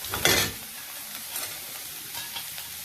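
Bitter melon seeds and peels frying in a pan over a low flame, a constant close sizzle broken by several stirring scrapes.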